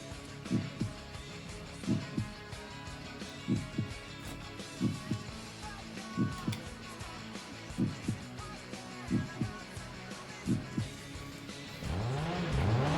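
Race cars in Gran Turismo 2 on PlayStation run a two-lane race with a steady engine drone. Regular low rhythmic thumps repeat about every second, and a rising rev and a louder surge come near the end, with no speech.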